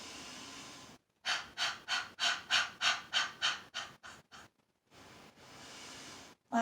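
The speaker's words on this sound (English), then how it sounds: "Breathe in, nice and deep. Fill your lungs with lots of air." A person takes a series of deep, rhythmic breaths in and out during a calm mindfulness breathing exercise, about a dozen close, loud breath pulses in a steady cycle, followed by a quieter, longer exhale.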